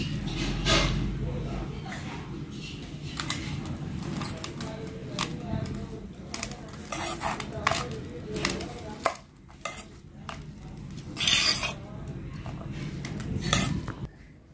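Poha cutlet mixture with coriander and lemon juice is mixed in a bowl, with irregular clinks, scrapes and squelchy stirring up close, and a voice talking at times.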